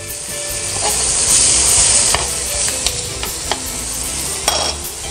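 Fresh onions with spices frying and browning on a grill, a steady loud sizzle with scraping stirs and a few sharp taps from a utensil, no talking.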